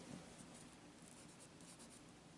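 Graphite pencil scratching steadily across paper, a faint close continuous scraping with no pauses and no talk.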